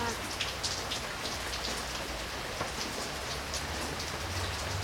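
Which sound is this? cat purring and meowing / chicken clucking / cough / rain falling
rain falling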